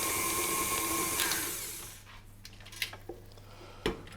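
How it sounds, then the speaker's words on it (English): A stand mixer whirs loudly, then winds down and stops, and a spatula scrapes a mixing bowl of chocolate shortbread dough with a few sharp clacks and scrapes close by. "I'm going to scrape down the bowl"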